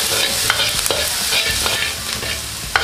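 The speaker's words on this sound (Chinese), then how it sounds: "下入我们的蒜米，" Garlic sizzles in hot oil in a wok while it is stirred for an oyster-sauce lettuce sauce: a steady close frying hiss broken by short scraping strokes of the spatula.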